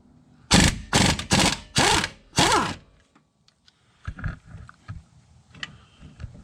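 A stubby impact wrench with an extension works on the rear wheel bearing bolts of a 2012 Jeep Patriot, hammering out five loud, close, rattling bursts in quick succession before quieter clanks of handling and tools follow.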